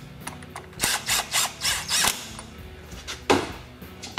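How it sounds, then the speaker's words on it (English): A power driver runs screws into the housing of a Stihl FS string trimmer during a coil replacement, several short whirring bursts in quick succession, close and fairly loud, followed by a sharper final burst. "Put a couple of screws in."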